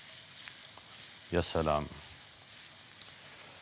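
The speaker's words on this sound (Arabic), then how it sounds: "زي ما انتم شايفين كل الروبيان مع البصل قاعد يتحمر" Shrimp and onion fry in a pan with a steady, close sizzling hiss throughout, briefly overlaid by a short spoken exclamation.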